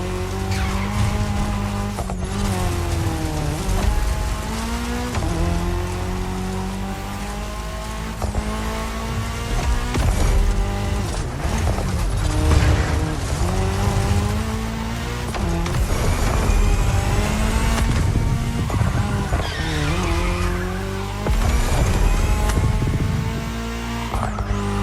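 Race cars in The Crew Motorfest cross-terrain race roar on tarmac, with engines rising and falling in pitch through gear changes and tire squeal, loud and continuous with music mixed in.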